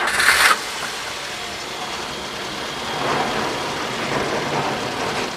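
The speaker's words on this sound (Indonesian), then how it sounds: "Nah, ini udah di starter, kondisi mesin masih halus, masih smooth" A 2017 Daihatsu Granmax pickup fitted with air conditioning and power steering fires up with a short starter burst, then settles into a smooth, even idle that hums steadily close by.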